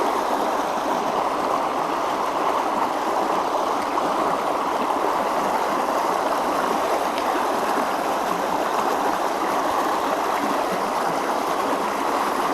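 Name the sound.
river rapids flowing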